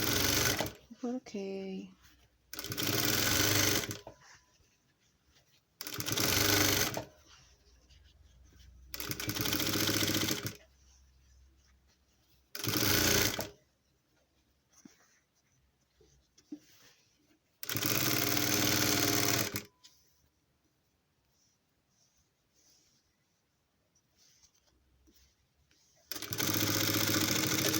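A sewing machine stitches a blouse in short bursts of rapid mechanical whirring, several runs of a second or two separated by pauses, with a person speaking softly between them.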